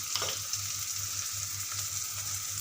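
Tomato masala sizzling steadily in a hot pan, an even frying hiss with soft rhythmic stirring pulses, close and continuous with no talking.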